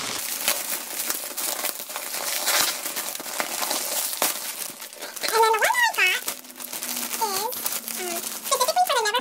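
Plastic packaging around a Neverfull MM bag organizer in Jasper Tan crinkles and crackles steadily as it is unwrapped, with a voice talking over the rustling in the second half.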